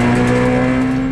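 Kia Ceed GT hatchback engine pulling steadily under acceleration, a loud sustained drone heard from inside the car with no distinct gearshift break in this short stretch.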